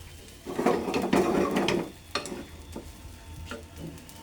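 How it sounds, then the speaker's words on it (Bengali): Soaked bread, milk and semolina being stirred in a pan, a soft rumbling scrape with a few knocks of the spoon, quiet and without voices. "সব দিয়ে এখন একটু কষাচ্ছি"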